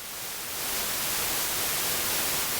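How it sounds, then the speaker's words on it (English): Steady white noise from a Mutable Instruments Kinks utility module: a flat, even hiss that swells slightly in the first half-second, then holds constant and loud with no pattern or pitch. "This is what white noise sounds like."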